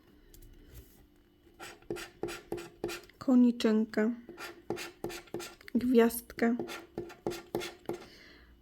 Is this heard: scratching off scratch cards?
yes